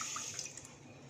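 Water poured into a pan of sugar over a medium gas flame to start a sugar syrup for Mysore pak, a brief, soft splashing trickle heard close and quiet with no talking.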